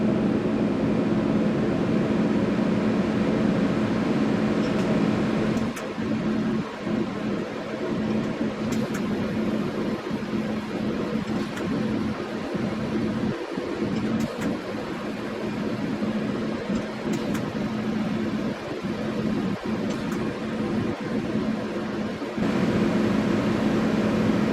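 A stainless steel turbo downpipe for an MK1 Rabbit VR6 is TIG welded along its seam by autogenous fusion with a pulsed arc, giving a loud, steady, continuous buzzing hum with slight crackle that holds for the whole stretch.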